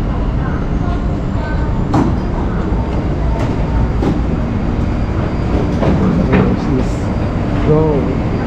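Inside a moving Taipei MRT train, a steady loud rumble of wheels on rail runs throughout, with periodic clicks and clacks over track joints and faint metallic squeals.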